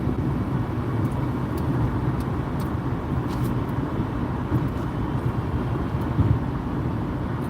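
Cars travel along a road in steady traffic, a constant low rumble and roar of engines and tires that stays close and even throughout.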